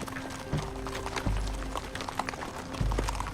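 Many hooves from a large group of ridden horses, about a thousand riders, clopping in an uneven continuous patter outdoors, with a few heavier thuds and faint voices in the background.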